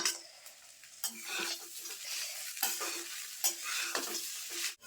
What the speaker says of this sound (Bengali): সবগুলো দিয়ে এখন সুন্দরভাবে মিশিয়ে নেব আমি